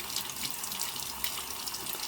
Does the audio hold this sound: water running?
yes